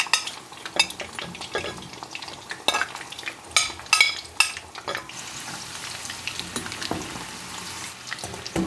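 Chicken frying in hot oil without a thermometer gives a steady close sizzle, broken by sharp clinks and stirring bursts early on, then settling into an even crackle.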